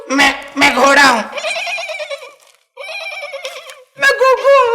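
A voice mimics a horse's neigh in a domestic comedy scene, with loud, wavering whinny-like calls in three bursts separated by short pauses.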